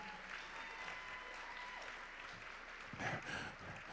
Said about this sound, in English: Round of applause for those.